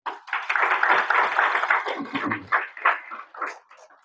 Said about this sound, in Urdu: ان کے لیے بھی تھوڑی سی تالیاں ہو جائیں